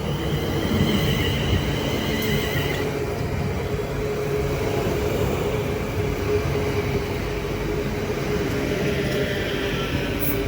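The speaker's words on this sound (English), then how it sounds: "will be the 1654 London North Western Railway service from London Euston to Tring, Leading this set in is 350-237." London Northwestern Railway Class 350 electric train arriving at Watford Junction, a steady rumble and rolling rail noise with faint high whine, sustained throughout.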